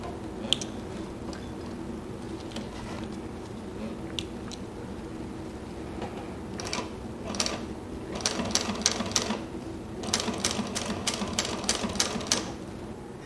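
Mini walking foot sewing machine stitching leather with yellow thread, giving short bursts of rapid mechanical ticking and clatter in several runs over a low steady hum, fairly close.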